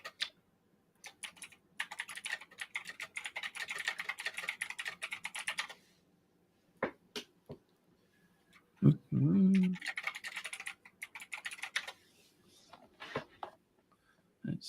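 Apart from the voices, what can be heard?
typing on a computer keyboard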